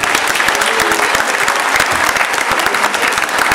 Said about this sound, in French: on peut applaudir déjà ça